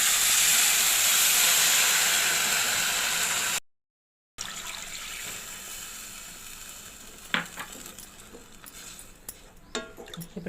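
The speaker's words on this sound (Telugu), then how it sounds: "ఇప్పుడు ఇందులో కప్పు రవ్వకి 2 కప్పులు వాటర్ పోసుకుందాం" Water hits hot roasted wheat semolina in a pan for laddu, giving a loud, steady sizzling hiss for a few seconds that cuts off abruptly, followed by quieter clinks and faint kitchen noise.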